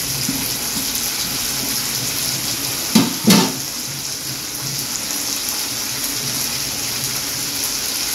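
Potatoes drop into mutton masala frying in a pan, a brief clattering splash and sizzle over a steady background hiss of cooking, close and otherwise quiet.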